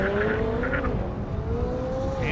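Dodge Hellcat drag racing down an airport strip, a steady loud engine drone with a rising pitch sweep as the car accelerates, heard continuously from close by.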